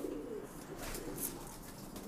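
A pair of pigeons coos softly and close by in a low, throaty murmur that continues for a couple of seconds, with faint background hiss.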